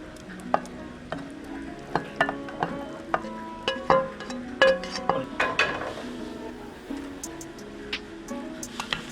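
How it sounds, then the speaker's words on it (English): Potatoes being stirred together with egg in a pan with a spoon for a homemade egg potato pizza: a steady run of scraping, clinking strokes over a soft sizzle, close and fairly quiet. "Now mix properly with egg."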